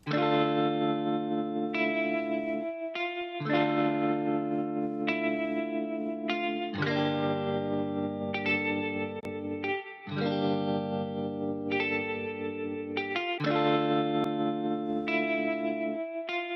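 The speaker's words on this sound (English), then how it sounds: "I do like that vinyl patina, but I also really like the beautifully unsteady and the hint of tape" Lofi music processed through the Yum Audio Pitch Dropout 2 plugin, with vinyl patina and a wavering, unsteady tape character on sustained chords and melody, playing continuously and loud without any voice.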